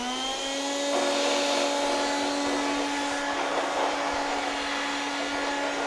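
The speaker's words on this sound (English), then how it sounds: "First thing I'm going to do is I'm going to pre-vacuum with this machine." A Roboclean vacuum shampooer and floor washer runs steadily while pre-vacuuming a floor, a loud, constant motor whine with a strong tonal hum and airy rush, no talk over it.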